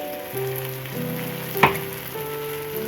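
Spinach paste blended with mint, ginger and garlic sizzles steadily in a frying pan as it is stirred, with the hiss shifting in tone and one sharp scrape of a spoon against the pan partway through.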